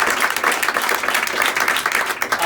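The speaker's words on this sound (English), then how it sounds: "Having a big round of applause for Tommy." A crowd at an indoor campaign headquarters event applauds steadily, a dense, continuous patter of clapping hands with no talk over it.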